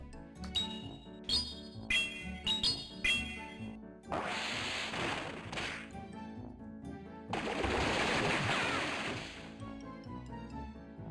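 Pokémon Go Battle League match with a Water Gun attack: chiming melodic game music with sharp synthetic hits, broken by two long, loud splashing bursts of noise, no talk.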